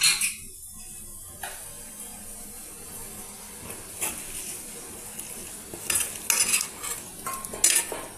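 A spoon stirs masala into cooked chickpeas for chana curry, scraping and clinking against the pot in a steady rhythm with a faint sizzle underneath, growing busier toward the end; no one speaks.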